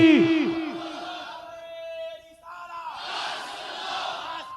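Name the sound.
crowd chanting in response to Nara-e-Takbir call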